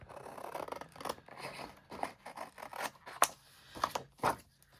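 Scissors snipping through a journal page, a run of quick close crisp cuts with short pauses between them, quiet and alone without talking.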